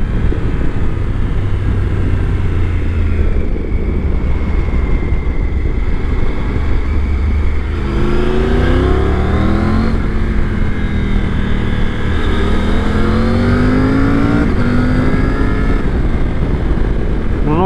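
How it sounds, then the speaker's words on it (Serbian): A 2024 Triumph Tiger 900 Rally Pro revs hard at high rpm, its loud engine note rising and falling in repeated sweeping pulls under constant wind roar, close and dominant throughout. "na visokim obrtajima kada bruji ovaj motor."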